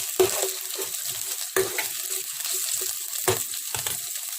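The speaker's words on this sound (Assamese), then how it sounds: "তাৰ পাছত ইয়াত আদাও দিছোঁ, জলকীয়া কেইটাও তেলতে দি দিম।" Ginger and chilies fry in hot oil with a steady, close sizzle, broken by a few sharp crackles and stirring scrapes.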